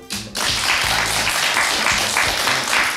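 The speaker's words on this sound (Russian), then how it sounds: "Аплодисменты Владимиру Носову." An audience claps and applauds for a guest at a comedy talk show, a dense, steady wash of many hands close up after a brief opening sound.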